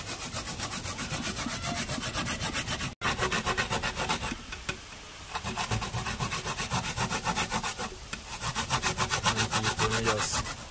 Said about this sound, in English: I get the coconut grater